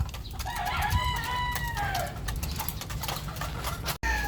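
An 11-year-old hen that no longer lays clucks amid a busy flock at feeding time, with harmonic calls and crowing-like cries from other chickens over steady barnyard noise until a brief cut near the end.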